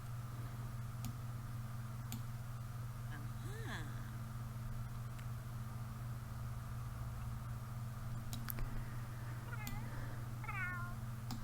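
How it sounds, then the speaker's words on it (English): Cats in a life-simulation video game give a few short, faint meows against a steady background hum and soft ticking, with occasional brief clicks. "These cats are lovely."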